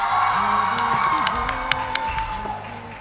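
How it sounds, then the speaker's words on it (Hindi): A crowd at a dance competition event applauds and cheers for a guest of honor, a dense wash of clapping and shouts over music, steady throughout the moment. "एक जोरदार तालियां हो जाए"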